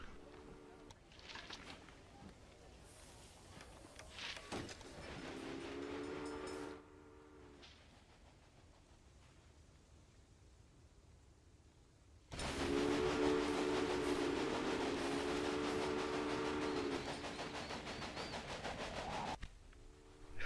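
A train running in the railway management game Railway Empire, with rolling rail noise and a horn-like tone that swells, drops away, then returns louder and sustained for several seconds.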